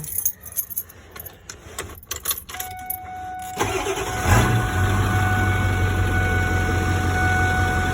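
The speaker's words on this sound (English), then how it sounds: "Put the keys in." Car keys jangle in a metallic clatter as they go into the ignition, followed by the engine starting and settling into a steady idle.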